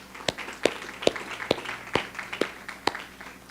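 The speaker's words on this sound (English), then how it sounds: "So a round of applause, please, for the finalists." Sparse, scattered handclaps greet teacher of the year finalists at a Cumberland school committee meeting: around eight distinct claps at irregular intervals, fairly faint and close, with no voices over them.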